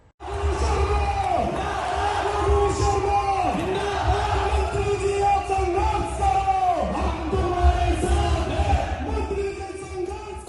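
A large crowd of hundreds packs an auditorium, filling the space with loud, continuous chatter, shouts and cheering swells, with voices calling out close by throughout.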